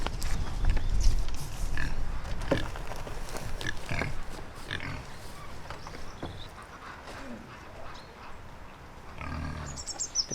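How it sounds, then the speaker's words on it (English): Pigs grunt and snuffle up close while digging up and feeding on roots in a stormy winter outdoor setting, with steady low rumbling noise underneath. "The pigs have been digging up and feeding voraciously on roots"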